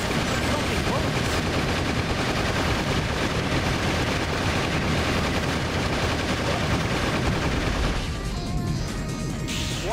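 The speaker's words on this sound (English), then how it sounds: "The tank's buried. It's pumping bullets." Tank pumping out rapid gunfire in Shadow the Hedgehog, a dense, continuous barrage of shots and crashes that stays loud throughout, mixed with game effects and voices talking over it.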